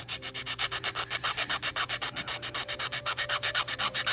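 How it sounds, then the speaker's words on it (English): Rapid, steady back-and-forth rubbing as a hinge part on a plastic Tamiya Tiger I model kit is sanded, with close, rhythmic strokes repeating evenly throughout. "I gotta sand that hinge right away there"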